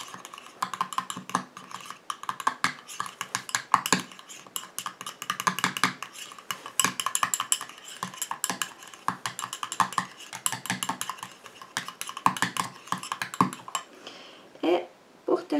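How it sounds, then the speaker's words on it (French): Rapid clinking taps of a utensil stirring a cream mixture for a homemade rheumatism balm in a small container, quick irregular scraping strokes close up, fading briefly near the end. "Voilà, je mélange."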